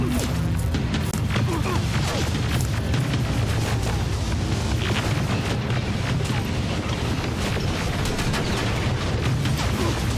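Explosions from grenades thrown during a firefight in the video game Terminator Resistance: repeated heavy booms and crashes over a dense, continuous roar of battle noise, loud and close throughout.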